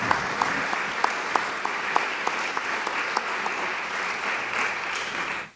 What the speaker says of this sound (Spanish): Les pido un aplauso para Alejandro.